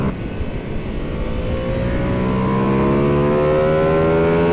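Ducati Panigale V2 S motorcycle engine pulling hard under acceleration, a loud, close, steady roar with rising pitch through the gear as it gains speed, heard alone without talk.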